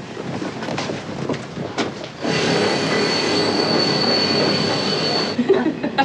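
A train rolls on rails, first as a rumble and then as a loud, sustained roar from inside a carriage, with a steady high squeal of the wheels that stops near the end. No one speaks.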